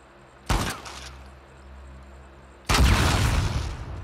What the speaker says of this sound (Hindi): नहीं इसकी गोली चलाते हैं।